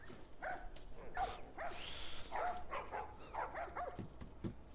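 Dogs in The Last of Us Remastered bark and yip repeatedly in a loose, irregular series of sharp, fairly close calls over about five seconds.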